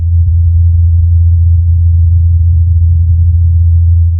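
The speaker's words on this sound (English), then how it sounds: "This is the sound of a helicopter flying on Mars." NASA's Ingenuity helicopter flying on Mars, picked up by the Perseverance rover's microphone: a steady, low, pure hum from the spinning rotor, constant in pitch and level, with nothing else audible.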